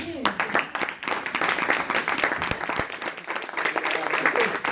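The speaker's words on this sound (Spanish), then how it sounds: "un aplauso para la Biblia" A church congregation breaks into a round of applause, with dense clapping that stays steady and close throughout, while a voice speaks over it.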